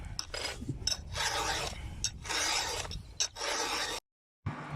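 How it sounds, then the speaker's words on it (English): A hand file rasps across a chainsaw chain on a tree surgery job site, in repeated strokes of about half a second to a second, close and steady, with a short silent gap near the end. "some of the saws need sharpening. Sharpening them here on site."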